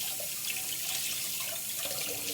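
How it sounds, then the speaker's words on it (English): Hard-boiled eggs rinsed under a running kitchen tap make a steady, close splashing stream of water into the sink with faint trickles and drips, continuous throughout with no talking. "So let me rinse these off real quick."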